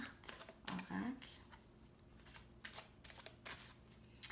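Oracle cards shuffled and drawn during a love tarot reading, a few soft papery riffles and slides close up with quiet rustling.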